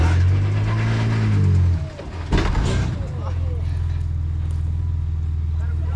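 A 2023 Ford Raptor 4x4 on an offroad track revs its engine to climb over slippery rocks, a loud low rumble that swells, dips briefly with a clunk, then settles into a steady heavy drone.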